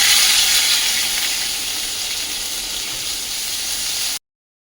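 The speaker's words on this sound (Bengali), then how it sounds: "এই যে আদা দিয়ে মানে একটু ভাজা ভাজা হয়ে গেছে" Ginger paste with salt and turmeric sizzles in a hot pan, a loud, even hiss that eases slightly over a few seconds before stopping abruptly.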